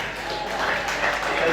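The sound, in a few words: audience applause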